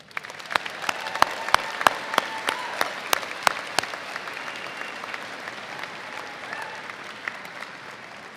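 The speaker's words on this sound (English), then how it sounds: "please ask everyone to give our staff members a round of applause" Audience applause for staff members at the University of Michigan spring 2024 commencement ceremony: a broad, sustained wash of clapping from a large crowd, with a few sharper, louder claps near the front early on, tapering slightly toward the end.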